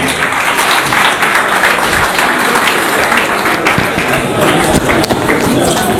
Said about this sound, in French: On acclame pour lui